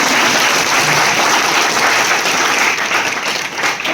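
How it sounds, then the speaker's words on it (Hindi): Loud, sustained applause from an audience at a student success event, a dense steady wash of many hands clapping that holds for the whole stretch with no talking. "इसलिए मेरे तरफ से इनके लिए एक बार जोरदार ताली"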